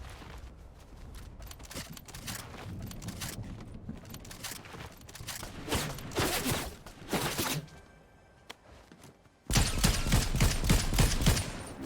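Rapid gunfire bursts in Fortnite Zero Build rattle on and off, with dense volleys, brief lulls and a louder sustained barrage near the end. There is no talking.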